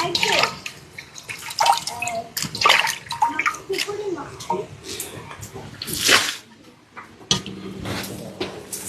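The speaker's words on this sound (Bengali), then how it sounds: "তো মাছটা ভালো করে ধুইয়া আমি করব" Rohu fish being washed by hand in water before frying, for cooking on a clay stove: continuous splashing and sloshing with sharper splashes throughout, close by, with a person talking over it.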